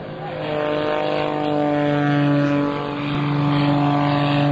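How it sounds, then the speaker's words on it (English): A Pitts biplane's engine drones through an airshow aerobatic routine, a sustained buzzing tone that rises and falls in pitch and loudness as the aircraft maneuvers overhead. "this little Pitts biplane turns"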